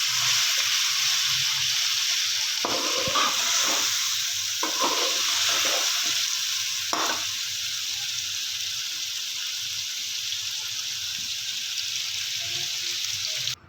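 Pulao masala being stirred into mutton pulao in a pot, a continuous sizzling, frying hiss with soft scraping strokes of the spoon early on, then settling into a steady sizzle with no talking.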